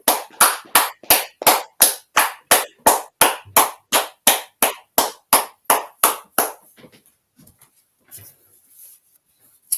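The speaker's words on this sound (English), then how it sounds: "Let's clap it up." Sharp, evenly spaced hand claps ring out close by, about twenty in a steady rhythm at the end of an online class, then stop and leave near silence with a few faint sounds.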